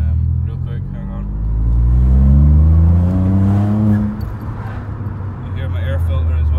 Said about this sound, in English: You hear my air filter as well, so that's sick.